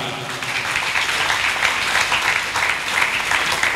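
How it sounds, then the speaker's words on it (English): Church congregation clapping during a sermon on fellowship, a thick, continuous wash of many hands at full volume, steady throughout with a faint murmur of voices beneath. "Give the Lord a better clap."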